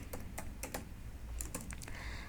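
Computer keyboard typing while writing JavaScript code, a quick irregular run of light clicking keystrokes up close, fairly quiet and without speech.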